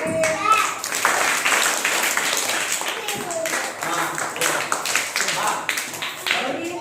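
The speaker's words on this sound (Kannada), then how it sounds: "ಚಪ್ಪಾಳೆ" Children clap their hands during a maths activity at a government primary school, a steady run of close, busy claps mixed with kids' voices and chatter throughout.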